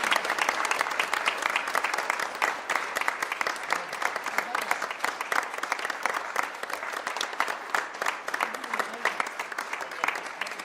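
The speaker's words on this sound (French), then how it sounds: "on applaudit encore tout le monde et on vous applaudit aussi pour votre présence" Steady, dense clapping from an audience after a gathering, fairly distant and even in level, continuing without a break and with no talking over it.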